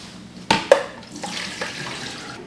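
Tap water runs into a kitchen sink while chicken gizzards are rinsed, with a steady soft stream broken by a few sharp splashes and clunks near the start and a smaller one later.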